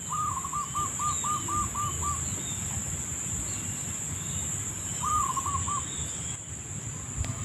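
A zebra dove (perkutut) in the open countryside calls in a rapid run of clipped coos, then a shorter burst a few seconds later. The calls are fairly distant and sit over constant insect buzzing and a steady outdoor hiss.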